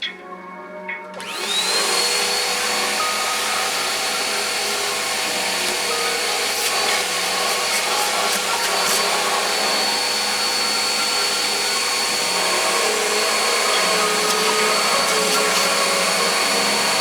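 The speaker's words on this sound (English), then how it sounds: "And I might go after this with a vacuum just one more time." Shop vacuum cleaning a machine on a workbench, starting with a brief thump and then running loud and steady at close range with a whining tone, with no talking.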